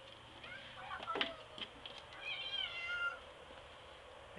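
A palomino cat meows a few times close by before breakfast, with short, soft calls over a quiet background.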